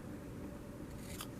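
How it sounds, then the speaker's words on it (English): A single quiet snip of scissors cutting paper for a paper flower comes through over a steady low background hum. "Get your scissors."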